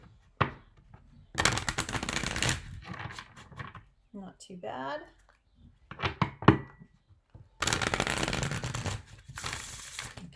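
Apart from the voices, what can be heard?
riffle shuffling a card deck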